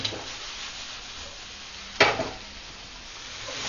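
Onions and tomatoes sautéing in a pan for chicken masala, a soft even sizzle with a sharp spatula scrape or knock midway and quieter stirring afterward.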